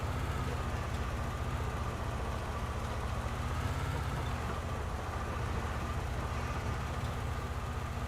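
A continuous low rumbling drone of an armored vehicle's engine and tracks in the War Thunder video game, steady and moderately loud throughout with no talking.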